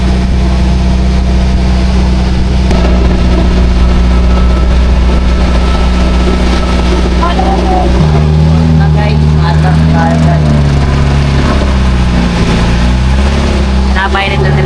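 Steady engine drone of a boat on an island-hopping trip around the Hundred Islands, a loud continuous low hum that shifts pitch partway through, with people talking over it.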